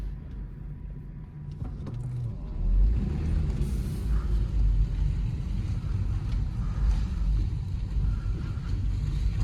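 A Mercedes E320 with a naturally aspirated engine driving along, a low steady engine rumble and road noise that swells slightly as it pulls away, heard from inside the car.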